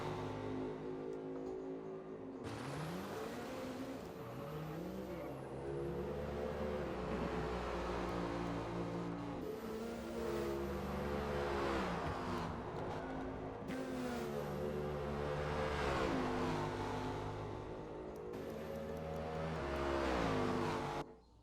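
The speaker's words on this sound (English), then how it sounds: "It sounded like I heard tires squealing and their engine really bogging down" A race car engine in a racing video game, heard as repeated loud revving and bogging sweeps with high whining squeals like tire noise over a constant motor drone, the engine note rising and falling several times.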